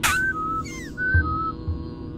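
Two-note whistled call in the video game Oddworld: New 'n' Tasty, played twice over low game ambience, with soft thuds beneath and a brief swooping tone between the calls.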